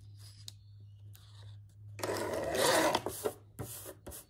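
Scissors trim paper for an art journal: a few soft snips and taps, then a longer rasping cut of papery friction, ending in several sharp closing clicks, close and fairly quiet.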